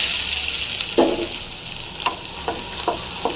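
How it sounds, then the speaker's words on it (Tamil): Peeled garlic, large onions and small sambar onions frying in hot oil with mustard seeds, a steady sizzle under a few sharp stirring scrapes, close and alone. "நல்லா ஃப்ரை பண்ணிக்கலாம் நல்லா ஃப்ரை ஆகணும்"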